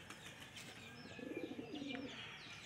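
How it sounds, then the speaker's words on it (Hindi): A pigeon coos at a female in a rhythmic series of low, throaty calls, close and fairly quiet, with faint chirps and bird rustling around it. "ये देखें कबूतर तो गुड़कते हैं मादी पर"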